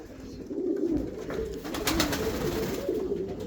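Light-nosed speckled pigeons coo in soft, repeated throaty rolls, close and moderately loud, several coos overlapping across the few seconds with no talk.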